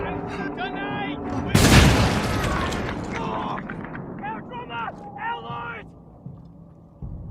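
A big explosive tank blows up in the Mad Max video game, a loud broadband blast that bursts in suddenly and rumbles away over several seconds, amid mechanical clatter and game sounds with talk over it.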